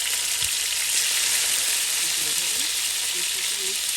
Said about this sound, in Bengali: আমি মাছটাকে ভেজে নিচ্ছি